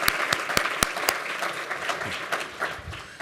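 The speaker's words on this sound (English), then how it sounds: "Larry Bender and LaVon Humphrey, principals at those two schools, really do deserve a round of applause" A school-district audience applauds two school principals, Larry Bender and LaVon Humphrey, at a state of the schools address, with sharp scattered claps standing out over a steady wash of clapping that slowly tapers.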